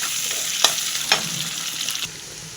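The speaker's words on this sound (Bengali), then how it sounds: "এবার পেঁয়াজটা ভাজা হতে থাক।" Onions fry in a hot pan with a bright, steady sizzle close by. A couple of sharp clinks from stirring break in near the start, and the hiss drops slightly toward the end.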